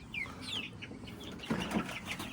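Young barnyard mix and Orpington chicks chirp and peep faintly in short high calls, with soft clucking and low rustling nearby.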